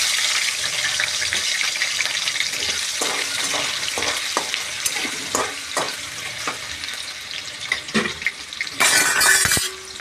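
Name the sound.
potatoes frying in oil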